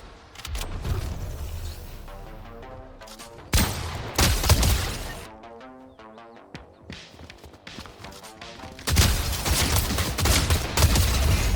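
Bursts of video game gunfire in a shooter with loot-grabbing, loud rapid volleys coming in several waves with quieter gaps between them, close and intense.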